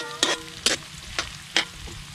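Garlic, onion and ginger sautéing in a pan, a soft sizzle broken by four short, evenly spaced bursts of stirring scrapes, quiet and close.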